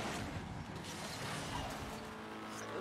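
A racing video game car engine drones steadily and loudly for the whole stretch, a continuous mechanical roar with no breaks, heard at a fairly low overall level.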